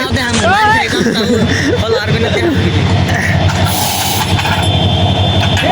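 A loud, steady rumble of a train in India rolling past close by, with a voice talking over the noise throughout.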